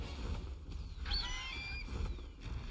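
A bird honks once, a single drawn-out, goose-like call rising clearly over steady background noise in the survival video game Ark.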